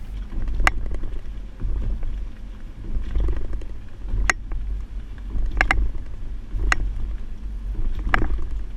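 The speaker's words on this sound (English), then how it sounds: "Now we're at the alternating speed bumps." A 2008 Honda Odyssey carrying a Kuat NV 2.0 two-bike hitch rack rolls over alternating speed bumps, giving a low rumbling drive with repeated sharp rattling knocks from the rack at irregular intervals.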